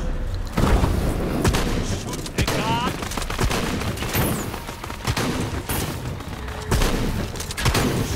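Gunfire in the video game Shadow of the Tomb Raider crackles in dense, rapid bursts, sharp shots stacking into near-continuous volleys with booming impacts throughout.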